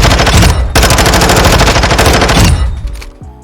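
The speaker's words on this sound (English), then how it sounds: "This is the instant of how I'm just going to shoot some people with the instant" Sustained automatic gunfire from shooting enemies in Call of Duty rattles in rapid, loud bursts for a couple of seconds, then cuts off and leaves a fading ring and faint game tones.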